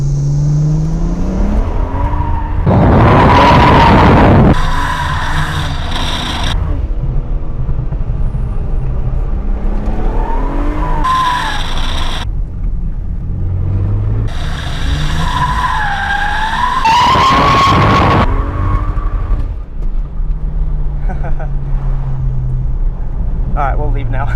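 A worn car with a suspected failing center support bushing drifting and sliding, tires skidding in loud bursts with engine roar, the chugging slides repeating several times while a person talks in between.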